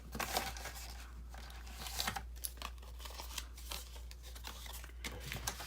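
A cardboard box being cut down to size produces close, irregular crinkling and snipping scissor cuts, quiet, with no talking over it.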